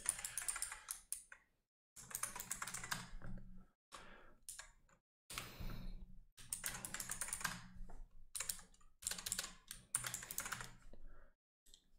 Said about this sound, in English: now you just have to basically enter your email, username, and password.